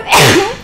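A single close, loud sneeze from a person at an indoor gem and mineral show livestream, a sharp burst that quickly fades.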